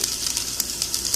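Chicken sizzling inside a Ninja Foodi OP302 pressure cooker's air crisp mode, giving a steady soft hiss with faint crackles, fairly quiet and continuous with no talking.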